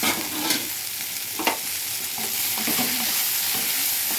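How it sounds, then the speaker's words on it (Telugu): Curry fries in a pan with a broad, continuous sizzle, broken by a few close scraping stirs and light knocks of a utensil against the pan. "వేగినట్టు అడుగు అంటుతుంది."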